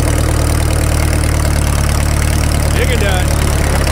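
A Caterpillar D2 bulldozer, restarted after sitting for 20 years, runs steadily in fifth gear with a constant low, droning engine rumble throughout, and someone speaks briefly over it.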